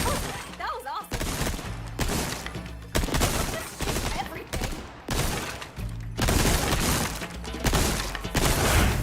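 Repeated bursts of video game gunfire from Resident Evil 4 Remake come in clustered volleys over several seconds, loud and sharp, with a voice talking between some of the shots.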